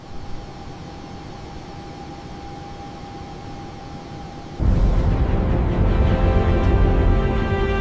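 A United airliner cleared for takeoff on runway 27 left, quiet steady cabin-like hum suddenly giving way to a loud, broadband engine roar as thrust builds for the takeoff run.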